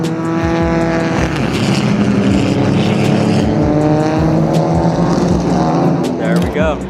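TCR touring race cars roar past together as the green flag drops at Road Atlanta, a loud, dense wall of revving engines with rising gear changes and one car sweeping close by near the end, voices talking underneath.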